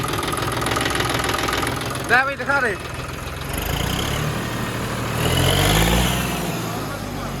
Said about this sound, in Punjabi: ਸਟਾਰਟ ਕਰਕੇ ਦਿਖਾਓ ਟਰੈਕਟਰ